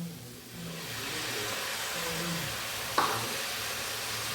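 Ginger-garlic paste with ground cinnamon, clove and cardamom sizzling in a pan for a village jackfruit curry, a steady low hiss with a brief clink or stir near the end.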